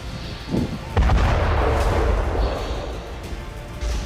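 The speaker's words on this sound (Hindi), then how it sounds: "यूक्रेन का दावा है कि अब रूसी सेना बागपुत में फास्फोरस बम से स्ट्राइक कर रही है।" Phosphorus bomb strikes in wartime Bakhmut: a heavy boom lands about a second in and a sustained roaring, crackling rumble follows, with a softer thud near the start and another near the end.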